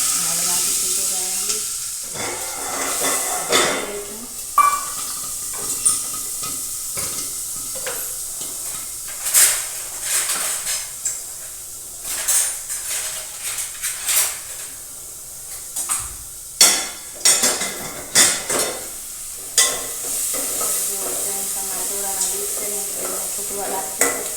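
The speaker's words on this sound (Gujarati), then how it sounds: "તો રાઈ જીરો સટાવી દે નાખીશું" Mustard seeds and cumin crackle and sputter in hot oil for a Gujarati tempering, a close, dense sizzle with sharp irregular pops scattered throughout and no talking.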